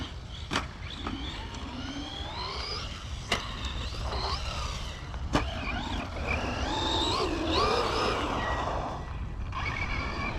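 A Traxxas Rustler 4x4 RC car with a BL2S Big Block 2400kv brushless motor whines and surges as it drives, its pitch rising and falling through several passes, with sharp clicks and knocks from the ground.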